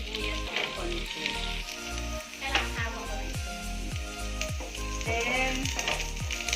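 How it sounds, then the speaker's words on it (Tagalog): Onion and garlic sizzle steadily in hot oil for a pork menudo, a dense continuous frying hiss with occasional stirring scrapes, close and alone without talk. "Medyo lutuin po natin yung sibuyas ng konti."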